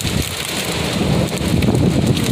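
Steady heavy rain pours down in a storm, with a dense wash of drops and low rumbling thunder-like energy underneath, loud and continuous throughout with no talking.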